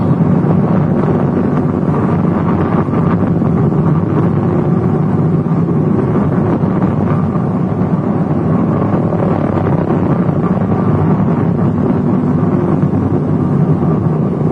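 A Consolidated B-24 Liberator bomber taxiing at the Willow Run airfield gives a steady, loud, unbroken engine roar that fills the whole stretch without pause.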